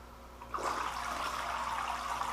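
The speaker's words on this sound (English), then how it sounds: "let me turn the pump on and show you kind of what it is" A water pump switches on in a homemade minnow bait tank built from a cooler, filtering water through a shoebox filter. A sudden onset gives way to steady rushing, splashing water, close and continuous, with no talk.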